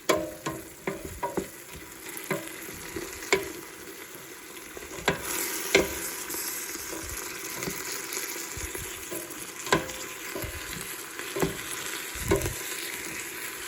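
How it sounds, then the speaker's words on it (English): Flour stirred into cooking vegetables as they thicken into a paste, a steady frying sizzle broken by repeated scrapes and clinks of a utensil against the pan, fairly close, with no talking. "So now to this, I'm going to add 1/4 cup of flour. And then we're going to stir this up."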